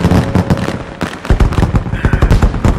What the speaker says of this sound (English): Ooh, fireworks.